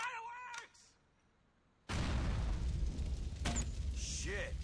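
Explosions in the video game GTA The Lost and Damned: after a voice and a brief hush, a loud, deep blast erupts and rumbles on continuously, with sharper bursts and crackles layered through it.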